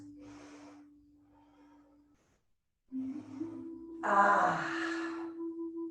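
Deep ujjayi yoga breaths in a class setting, heard as slow, audible breathy exhales and inhales close by, with a steady tonal hum underneath and a louder, rougher breath toward the end.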